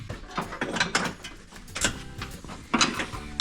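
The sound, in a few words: ratchet wrench turning a 10 mm bolt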